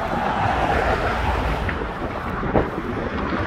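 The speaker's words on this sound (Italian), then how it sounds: "ci godiamo questa passeggiata dove ovviamente sentiremo sia il vento che le auto" Gusting wind buffets the microphone on the Brooklyn Bridge, mixed with a continuous roar of passing traffic and one brief louder bump.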